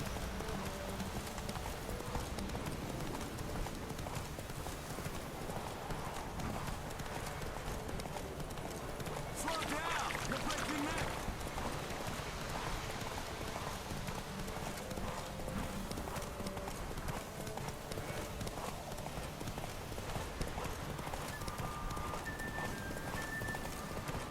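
Rapid rhythmic hoofbeats of a galloping horse during a horse race in the video game The Witcher 3, continuous and close, under voices and a game-style backing score.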